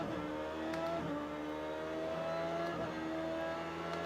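A racing car engine in a sim racing game holds a high, steady harmonic drone down a long straight, with a brief dip in pitch at each gear change, loud and continuous with no talking.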